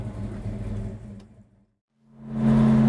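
A 1966 Chevrolet Chevelle SS runs on a test drive, its engine giving a steady mid-pitched drone that drops away into near silence, then swells back up into a strong, close revving hum.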